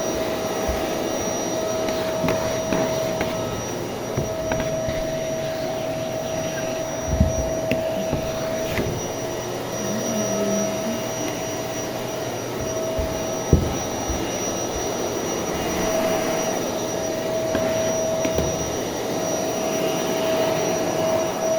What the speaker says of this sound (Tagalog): Kaya muna natin itong vacuum.